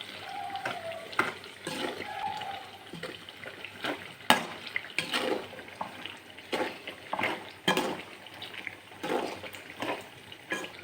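Stirring a salted pickle mixture in a pan, heard as repeated scraping and clinking strokes at an irregular pace over a soft sizzle, with no talking.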